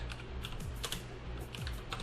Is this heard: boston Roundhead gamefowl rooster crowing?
no